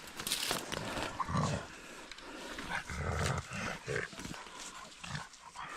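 Dogs huff and grunt close by in short irregular bursts, amid rustling movement through thorny woodland brush.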